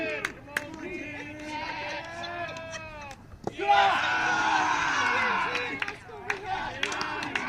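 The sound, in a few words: crowd imitating sheep bleating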